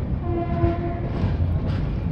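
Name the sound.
Dhauli Express train running after leaving Balasore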